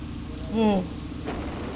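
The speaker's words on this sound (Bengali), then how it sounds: "কি জোরে ঝড় হচ্ছে দেখেছো?" Heavy rainstorm pours steadily in the background, a dense wash of rain while a voice sounds briefly over it.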